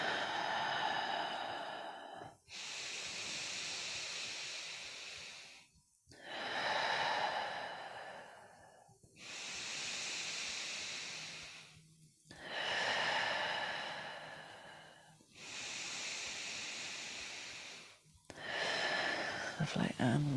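Slow, deep meditation breaths repeat in a long, even cycle of inhales and exhales, each lasting a few seconds with short pauses between them, close and fairly soft.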